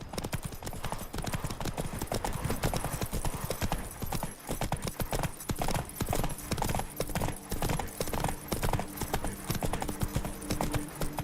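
Roach, the horse in The Witcher 3 video game, gallops at full pace, a dense, rapid rhythm of hoofbeats that runs continuously and close throughout.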